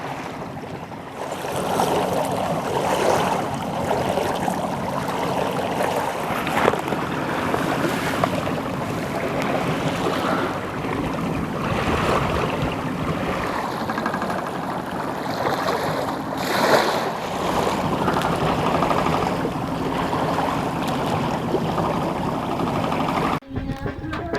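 A sailboat on passage to the Keys moves under sail with its engine off, water rushing and slapping against the hull in a continuous, fairly loud wash with swelling surges, ending in a brief cut.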